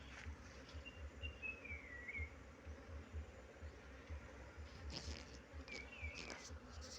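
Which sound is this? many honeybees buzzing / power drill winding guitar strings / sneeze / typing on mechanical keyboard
many honeybees buzzing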